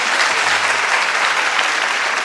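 Dense, steady applause from an audience at a symphonic music show, clapping for the accompanying group, loud and continuous throughout.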